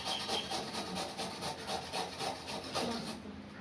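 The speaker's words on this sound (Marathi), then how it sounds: "तर ह्याच्यानेच किसून घेते." Cucumber grated on a large grater for quick parathas, a steady rhythmic rasping of repeated strokes, close and fairly loud, with no talk.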